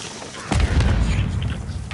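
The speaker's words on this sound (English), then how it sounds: "Throwing a stun grenade!" A stun grenade goes off in Call of Duty: Modern Warfare 3 with a single sudden deep boom. A rumbling low tail lingers for over a second afterwards.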